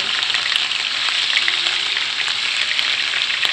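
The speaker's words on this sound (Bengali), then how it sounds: "মরিচগুলো আমি সুন্দর করে টেলে নিব" Beef and dried chillies fry in a wok with a loud, continuous sizzling hiss close by, steady throughout with faint clicks and no talk.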